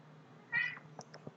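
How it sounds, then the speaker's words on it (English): A house cat lets out one clear, fairly close meow, followed by a few small clicks and taps in an otherwise quiet room. "My cat will be helping."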